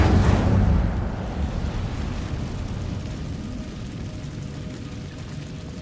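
An Incendio fire spell is cast in Hogwarts Legacy inside a cave: a loud, sudden fiery burst that rumbles and roars, then settles into a lingering low crackling blaze.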